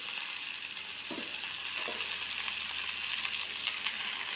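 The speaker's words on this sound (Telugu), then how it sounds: "ఈ గోంగూరనంతా బాగా వేయించుకోవాలా. ఇంత ఆయిల్ పోస్తున్నా చూడండి." Gongura sorrel leaves frying in plenty of oil, a soft, even sizzle with a couple of faint stirring knocks, low in level and free of talk.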